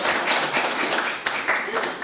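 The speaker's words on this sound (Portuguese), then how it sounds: "Aplaudir." Audience clapping at an international training workshop in Madrid, a fairly close burst of hand claps with a few sharper individual claps, mixed with voices talking.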